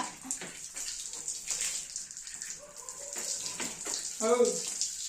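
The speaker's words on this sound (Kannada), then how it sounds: "ತಣ್ಣೀರು ಚಳಿ ಆಗಿರುತ್ತಲ್ಲ ಅಂತ ಬಿಸಿನೀರು ಬಿಡ್ತೀವಿ." Hot water runs steadily from a tap while a Hallikar bull is washed, a continuous splashing gush with scattered drips and a brief louder surge near the end, faint voices in the background.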